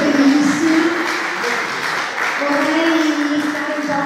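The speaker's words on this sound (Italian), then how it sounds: "facciamo di nuovo un grande applauso" An audience applauds at a fashion show evening, a continuous wash of clapping with a tonal voice or music running underneath, moderately loud and sustained.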